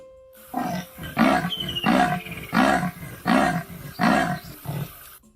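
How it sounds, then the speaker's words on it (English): A snow leopard gives a series of about seven deep, rhythmic grunts, evenly spaced and close, each a rough chuffing burst. "Snow leopard. I grunt, and this is what I sound like."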